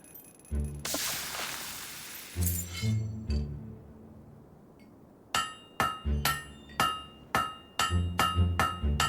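A hammer rings against a blade at a forge in Fable 3, a series of sharp metallic clanks that starts sparse and settles into a steady rhythm, loud and close, preceded by a whooshing burst.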